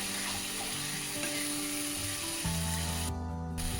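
Spice paste sizzles and fries in oil in a pan for potato cauliflower dalna, a steady close crackle with scraping stirring sounds and a shift in tone partway through.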